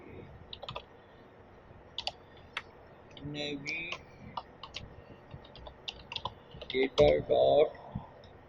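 Someone types Flutter code on a computer keyboard: scattered, faint, close key clicks in short irregular bursts, with a low murmur in the background.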